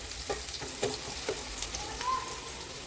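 Chopped onions fry in oil in a pan, a faint steady sizzle with a few soft stirring taps, quiet and close.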